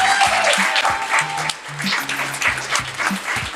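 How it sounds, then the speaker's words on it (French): A crowd applauds steadily throughout, a dense patter of clapping with a low thumping beat running underneath. "Applaudissements s'il vous plaît."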